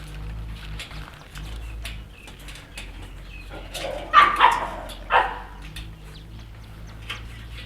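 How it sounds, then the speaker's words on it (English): Small dogs barking in a shelter kennel room, a few sharp barks bursting out around the middle, with fainter yips and bird-like chirps scattered through a steady low room hum. "They're the smallest and the loudest dogs we have at the shelter."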